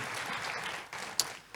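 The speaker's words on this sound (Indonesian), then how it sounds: "Tepuk tangan sekali lagi buat Tuhan kita Yesus." Church congregation clapping in a short, dense burst of applause at a Sunday service, loud and close with no voices on top.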